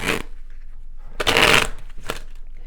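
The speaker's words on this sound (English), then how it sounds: "Sorry for the shuffling." Tarot cards are shuffled in three quick riffling bursts, loud and close, separated by short pauses.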